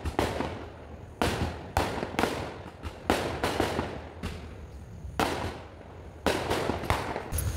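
Firecrackers burst outdoors in repeated loud volleys, each crackling salvo followed by brief lulls, with no voices over them.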